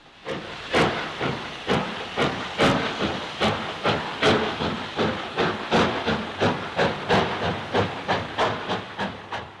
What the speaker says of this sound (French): Pour qui aime la vapeur, ces coups d'échappement reflètent la puissance de la montagne.